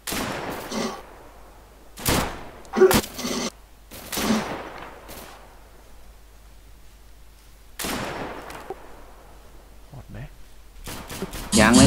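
Bursts of gunfire from the video game Deadside, several sharp shots and short volleys spread through the clip with quiet gaps between, loud and close, with players talking at times.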